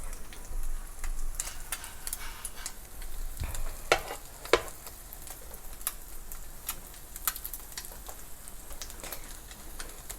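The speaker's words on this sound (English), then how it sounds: "You can hear the sizzling." A steady, soft sizzle of egg-and-milk-soaked bread frying in a pan as French toast, with a couple of sharper scrapes or clinks partway through.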